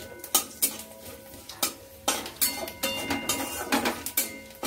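Vegetables going into a pan of fried whole spices and bay leaf, then stirred with a utensil: a series of sharp metallic scrapes and clinks in an irregular rhythm over a faint sizzle, close by.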